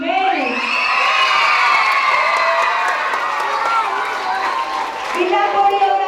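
A school audience at a children's Christmas staging of The Nutcracker at Colegio Betania cheers, whoops and shouts loudly and steadily for about six seconds, with many children's voices in the crowd.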